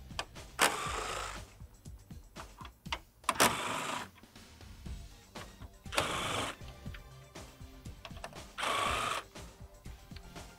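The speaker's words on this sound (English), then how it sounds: "we have 4 10mm bolts that we need to remove in order to remove the grille" A power tool drives out the 10mm grille bolts on a 2016-2018 Chevy Silverado 1500, with several short whirring bursts separated by quiet pauses and light metallic clicks and handling noises between them.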